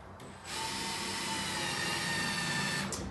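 A power drill drives screws into wall studs, a steady mechanical whir running for nearly three seconds after a brief start, fairly close and alone.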